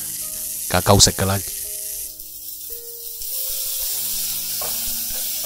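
About 200 g of bean sprouts stir-fry in a very hot wok over high heat, giving a steady close sizzle and hiss throughout, with a brief burst of a voice speaking near the start.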